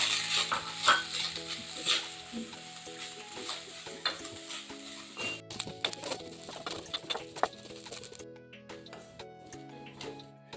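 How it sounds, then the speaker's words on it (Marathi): Grated fresh coconut sautéed in ghee for ukadiche modak makes a soft, intermittent sizzle with scraping stirs, alongside sustained tonal background music. "आता आपण हे जे किसून घेतलेलं खोबरं आहे ओल्या नारळाचं, ते आपण त्या तुपामध्ये परतून घेऊया"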